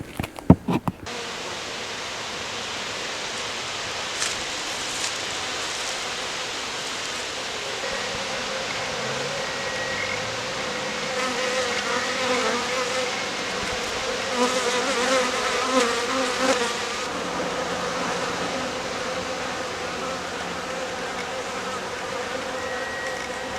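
Honey bees hum steadily around their hives in a mild climate, a dense, continuous buzz of many insects close by, with a few louder individual passes and no talking.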